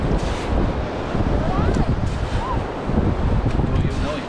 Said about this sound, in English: That wind's brutal.